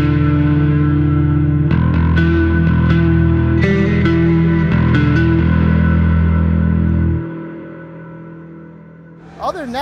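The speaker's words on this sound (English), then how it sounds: "I've also got a really big reverb setting here that I use if in between songs, we just gotta fill some space" Bass guitar played through a Fractal FM9 with a very large reverb setting, loud, sustained notes and plucked attacks washing together, then ringing out and decaying into a quiet tail before a brief final burst.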